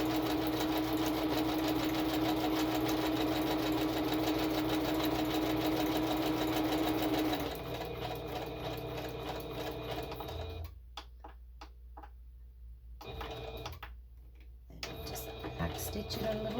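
A sewing machine stitches in a fast, steady mechanical whir for several seconds, then slows and stops and restarts in short bursts, close by, with a person talking intermittently.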